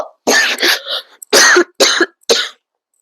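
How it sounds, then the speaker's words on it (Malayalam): A series of four or five sharp, harsh allergy coughs close by, in quick bursts separated by short silences. "എനിക്ക് അലർജി ഉണ്ട് അതാണ് ചുമച്ചു പോകുന്നത്"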